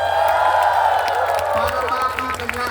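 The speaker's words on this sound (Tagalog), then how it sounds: "Pag narinig ang pangalan niya, dapat palakpak na may kasamang sigaw." Church gathering crowd clapping and cheering with shouts, a steady dense roar of applause and voices throughout, loud and fairly close.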